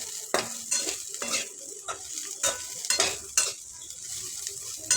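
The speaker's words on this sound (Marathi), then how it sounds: "अर्धा चमचा हळद घालते इथं आणि व्यवस्थित मिक्स करून घेऊ" Bitter gourd sabzi stirred with turmeric in a pan: repeated scraping strokes of a spoon against the pan at an uneven rhythm over a soft sizzle, close and fairly quiet.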